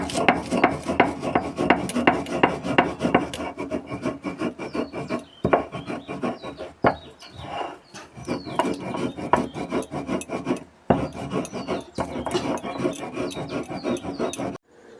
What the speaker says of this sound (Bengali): তো আমি এখানে শিলবাটায় গুঁড়ো করে নিচ্ছি।